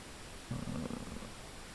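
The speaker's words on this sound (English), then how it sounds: "you can see with this pink noise, you can see how it's attenuating the higher frequencies" A steady hiss of pink noise test signal is played through a low-pass filter in a C++ JUCE audio plugin, continuous and fairly even, with a slight fuller swell partway through.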